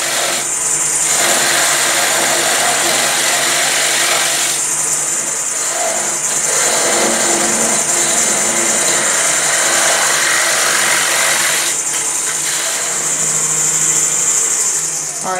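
Woodturning lathe cutting the tenon off the bottom of a wooden scrap bowl, a loud continuous scraping hiss from the tool on spinning wood, with two short pauses where the cutting eases before it resumes.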